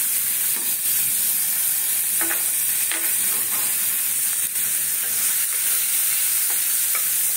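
Potato, onion, green chilli, cashews and raisins sizzle steadily in hot oil for a masala filling for stuffed pointed gourd, with a spoon scraping and stirring the pan at intervals, close and continuous, with no talking.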